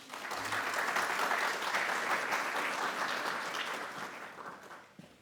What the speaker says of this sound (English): If you could join me in a little clap to welcome him.